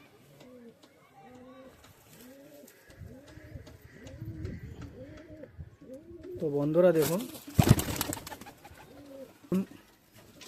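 Several native Bengali loft pigeons coo in soft, repeated low rounded phrases throughout, with someone talking over them and a brief louder flutter of wings midway.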